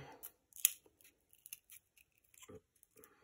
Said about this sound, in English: I'm just going to use some really sharp scissors